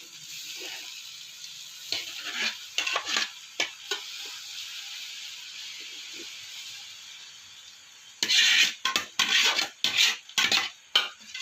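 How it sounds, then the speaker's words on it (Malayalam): Fried chicken is ladled over layered rice in a hot pan, with soft sizzling and intermittent bursts of scraping and clinking from the ladle, busier toward the end. "അതിൻ്റെ മേലേക്ക് ചിക്കൻ ഇങ്ങനെ കോരി ഒഴിക്കുകയാണ്"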